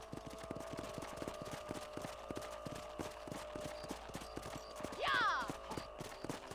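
Horses trotting in the western video game Red Dead Redemption, a steady rhythmic clip-clop of hooves throughout, with a horse whinnying briefly near the end over quiet background ambience.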